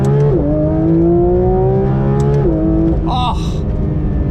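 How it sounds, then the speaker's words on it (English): A 2023 Porsche 911 GT3 RS (992) flat-six revs loudly and steadily from inside the car, its pitch climbing then stepping down with gear changes, with a voice briefly audible near the end. "Oh, that flat six sounds so darn good."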